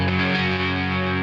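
Electric guitar played through an Ibanez chorus pedal, a single sustained chord ringing out with a rich, shimmering, full-bodied tone, loud and alone for just over a second.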